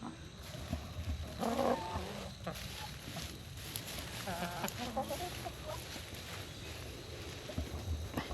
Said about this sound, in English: we got a bit distracted there with the chickens